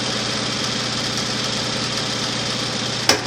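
A Juki DDL-900C industrial lockstitch sewing machine hums steadily as its direct-drive motor vibrates at high speed, a constant mechanical drone ending with a sharp click.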